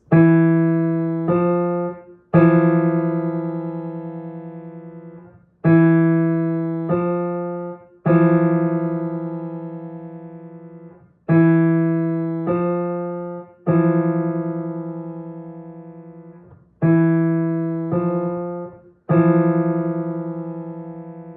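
A two-note interval played on a clean, bell-like keyboard tone, repeated four times in an even pattern, each pair ringing out and fading.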